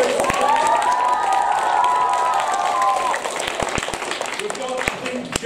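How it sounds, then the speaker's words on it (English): Audience at a school nativity play applauding and cheering for the narrators, a dense burst of clapping and shouts that thins out after a few seconds, with a voice speaking over the crowd. "Stand up, give us a round of applause for those narrators."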